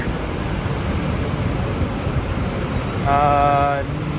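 Heavy industrial trucks on Cherry Street in Toronto's Port Lands rumble with a loud, continuous engine hum, and a rising tonal whine swells near the end of the stretch.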